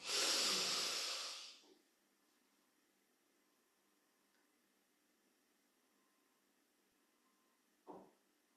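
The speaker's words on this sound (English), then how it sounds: "Breathing in nice and deep." A person draws a deep breath in during a guided relaxation exercise, a long breathy rush that fades. After a stretch of near silence, a shorter breath sound follows.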